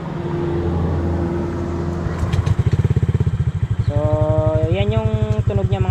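A Honda Click V3 scooter fitted with a JVT aftermarket exhaust pipe idles with a steady low putter, then revs up into a rising, throaty drone, loud and close.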